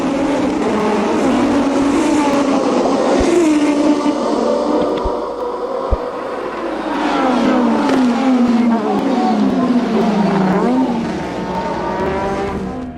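Formula 1 race cars at the start of the 1987 Austrian Grand Prix scream through repeated rising and falling engine revs, loud and continuous, overlapping as the pack accelerates.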